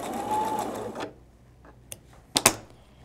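A sewing machine stitches through quilt fabric in a steady whirring run for about a second, then stops, followed by a few sharp clicks and clatters nearby.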